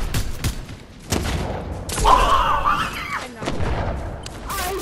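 Gunfire in the Fortnite battle royale game, a series of sharp shots and booming thuds in uneven bursts, fairly loud and close, with a brief stretch of denser fire midway.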